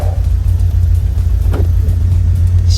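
A classic Nissan Skyline Hakosuka pulls away with a loud, close, steady engine rumble that holds throughout, with no one talking.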